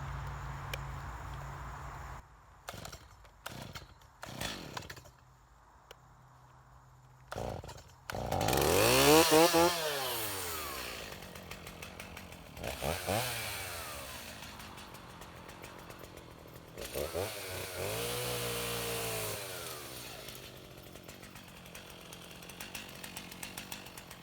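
A Stihl chainsaw with a short bar cuts tree limbs, its engine ticking at idle before revving up loud and whining through several cuts, the pitch dropping and rising as the chain bites into the wood.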